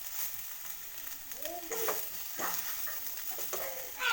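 Cinnamon, cloves and a bay leaf dropped into hot oil in a kadai, giving a soft, steady sizzle with a few brief clinks and stirring scrapes, fairly quiet and without talk.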